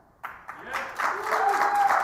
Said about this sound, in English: let's do a quick kind of, poll of the room here by round of applause